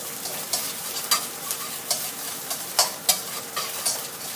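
Eggs stir-fry in a hot pan with a continuous sizzle, broken by repeated sharp scraping strokes of a spatula at a steady, uneven rhythm, close and clear with no talking.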